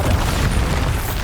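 A spell explosion from Bombarda in the video game Hogwarts Legacy, a loud, dense booming blast that rumbles steadily for just over a second with no voices.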